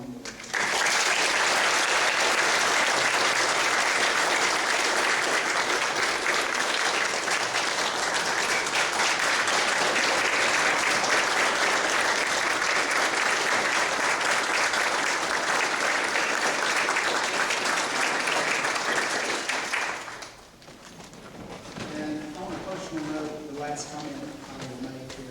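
Sustained crowd applause at a high school historical marker dedication, loud and dense for about twenty seconds before fading out, then a person begins speaking.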